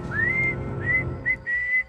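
Eerie, mournful whistling from a swagman's ghost in a horror film trailer, a few sustained rising and held whistled notes in short phrases, clear and close over a low, dark ambient drone.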